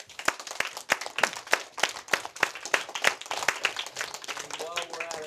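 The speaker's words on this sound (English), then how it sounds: "Let's give them an applause." Students at Brighten Academy clap for their teachers, sharp, distinct handclaps in an irregular flurry, with a voice or two chiming in near the end.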